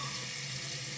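Hot water runs steadily from a tap onto a wet shaving brush, a continuous close splashing hiss with no break.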